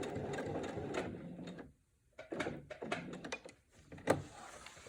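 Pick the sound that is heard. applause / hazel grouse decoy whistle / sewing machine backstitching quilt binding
sewing machine backstitching quilt binding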